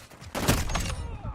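A muffled explosion booms once in a shooter video game, a brief heavy blast that fades over about a second amid the game's background noise.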